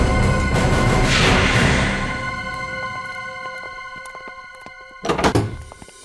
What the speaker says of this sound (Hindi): मैं तो बस ये कचरा बाहर रखने के लिए दरवाजा खोला था